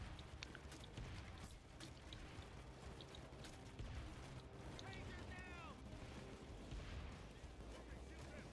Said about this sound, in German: So viele Explosionen.